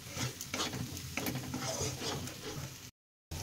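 Ginger garlic paste sizzles and fries in a pan while a spoon scrapes and stirs it repeatedly in a home kitchen, close and busy, before a brief cut to silence.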